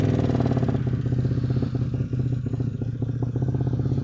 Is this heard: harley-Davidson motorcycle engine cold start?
yes